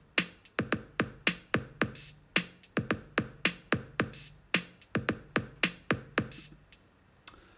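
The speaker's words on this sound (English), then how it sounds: "It is being played on an 808 kit, which is a electronic drum machine sound." An 808 drum kit on an electronic drum machine runs a step-sequenced pattern of sharp, punchy hits in a steady, even rhythm, with brighter cymbal accents recurring, played clean and alone.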